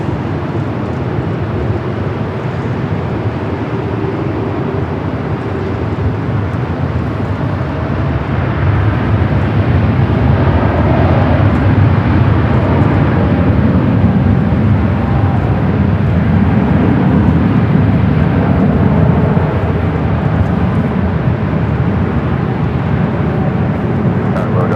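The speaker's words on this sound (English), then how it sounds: "She is cleared for takeoff" A United airliner takes off from runway 24 left at LAX, a loud, steady broadband jet roar that builds slightly and holds throughout, with an air traffic voice faintly present underneath.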